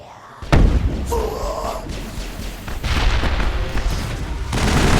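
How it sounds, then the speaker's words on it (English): Gunfire and explosive blasts in the game Mass Effect, a burst of heavy booms followed by rumbling explosions and scattered shots in an ongoing firefight. "You're wasting your high explosive shots."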